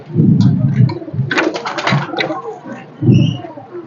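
Pigeons cooing in low, soft bursts nearby, with fluttering and scuffling sounds in between.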